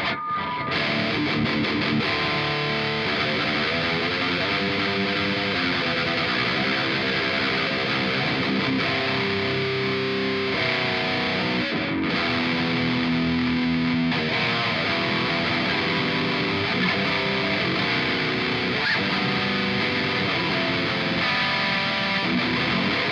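Electric guitar played through a Joyo Dark Flame modern metal distortion pedal, thick saturated chords and riffs ringing loud and continuous, with a brief gap partway through.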